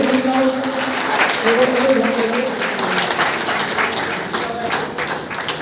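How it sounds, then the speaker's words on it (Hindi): Assembled listeners at a gurukul gathering give a loud round of applause for the staff, sustained clapping with a voice talking over it. "एक बार जोरदार तालियां"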